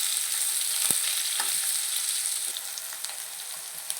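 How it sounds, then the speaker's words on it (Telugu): Onions and green chillies fry in hot oil for a broad bean curry, making a constant high sizzle at close range, with a sharp tap and a few faint stirring clicks; no voices. "ఫస్ట్ ఆయిల్ వేడెక్కిన తర్వాత ఉల్లిపాయలు పచ్చిమిరపకాయలు వేసుకొని బాగా ఫ్రై చేసుకోవాలండి"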